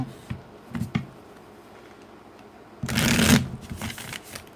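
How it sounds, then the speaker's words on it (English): Tarot cards riffle-shuffled up close, a few brief flicks followed by a longer, louder burst of shuffling near the end. "we're going to get a couple more shuffles in"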